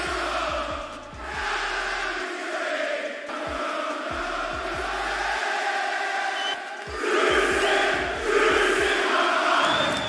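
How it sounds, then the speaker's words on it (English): A large wrestling arena crowd sings MJF's entrance theme together, a loud sustained chant of many voices swelling across the whole stretch, with deep thumps of music or stomping pulsing underneath. "This meant the crowd got to perform the entire song themselves"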